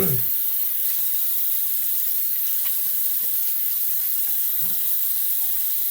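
Tap water runs steadily into a sink while someone rinses off after a shave, a constant close hiss with a few splashes and knocks as hands move under the stream.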